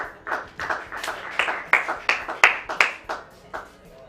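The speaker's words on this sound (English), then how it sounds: "Please clap for your classmate Brady." A small class claps for their classmate Brady, a loose handful of distinct, uneven hand claps with sharp individual strikes, fairly close and not fully blended into applause.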